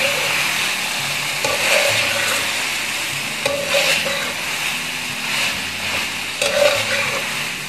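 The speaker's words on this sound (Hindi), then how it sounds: "और अब हम इनको मिक्स कर लेते हैं, चम्मच को चलाते हैं" Spoon stirring melted tomato masala for mutton in a sizzling pan, irregular scrapes and clinks over a continuous frying hiss.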